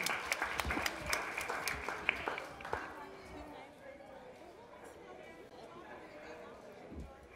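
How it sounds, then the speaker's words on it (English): At a community school development gathering, a brief burst of audience clapping with a few sharp claps fades after about three seconds into quiet room chatter and faint background noise. "Give everybody a round of applause."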